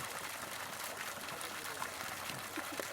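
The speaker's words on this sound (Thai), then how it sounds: "น้ำไหลแรงนะครับน้ำเต็มท่อ" Water gushing hard from a full pipe fed by a 3 hp solar-powered deep well pump on a hilltop near Pak Chong, a steady broadband rush with no break throughout.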